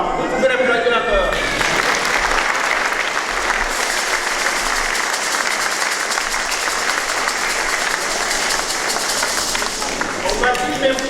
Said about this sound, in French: Vous pouvez l'applaudir encore.